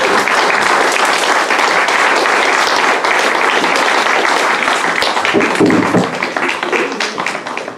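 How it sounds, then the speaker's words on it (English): Sustained applause from a seminar audience greets a speaker, dense and even for several seconds before it thins into scattered claps near the end. "let's give him a strong round of applause"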